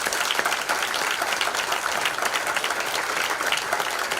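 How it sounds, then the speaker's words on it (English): An awards ceremony audience keeps up continuous, lively applause as a food bank coordinator walks to the stage, a dense patter of many hands. "If you can sustain the applause until Hannah's up on the stage, that would be marvellous."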